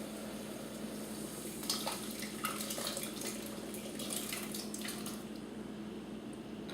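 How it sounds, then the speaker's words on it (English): Cooked beans are tipped into a simmering pan for a hearty Spanish-style bean dish, giving a soft, close, wet sloshing and pattering over a steady background hiss. "What I'm going to do is add my beans."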